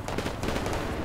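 Shots fired at a Hind helicopter in the Project Reality combat game: a short, dense burst of rapid gunfire, loud and close, with no talking.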